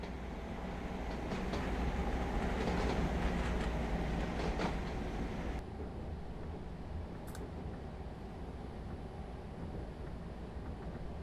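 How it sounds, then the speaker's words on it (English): A Stadler Class 755 FLIRT train in the Train Simulator Classic game rumbles along with a steady droning roll and faint rhythmic clicks, easing slightly quieter partway through. "Headed down the Great Eastern Main Line and the Wherry Lines is the Class 755."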